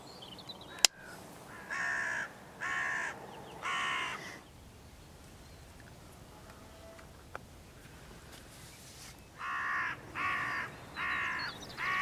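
Hooded crows caw in two bursts of three or four harsh calls each, at moderate distance, after a single sharp rimfire shot near the start, with quiet gaps between.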